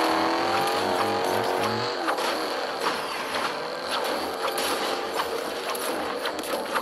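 A pizza car drives in Fortnite, its engine giving a steady, close whirring drone with slight revving swells and small bumps throughout.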